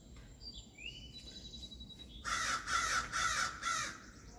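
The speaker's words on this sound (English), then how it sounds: "I've been feeding the crows. That's why they're very talkative." Crows caw in a quick series of four loud, harsh calls close by, following a quieter stretch with faint bird chirps and outdoor background noise.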